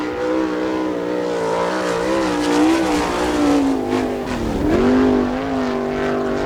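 A sprint race car with an Eagle chassis laps Attica's dirt oval in qualifying, its engine a loud continuous howl that rises and falls in pitch through the corners.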